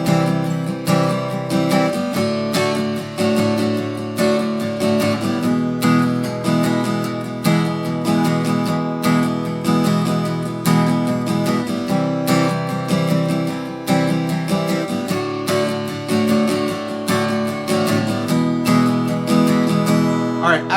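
An electric guitar plays the instrumental section of a song: about twenty seconds of dense, rhythmic strummed chords with driving accents, loud and unbroken.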